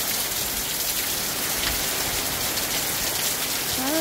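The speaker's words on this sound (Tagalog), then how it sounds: "Ay, lakas-lakas ng ulan." Heavy rain pours at a work site, a dense and even hiss of drops that holds steady throughout at a moderate level, with no talking over it.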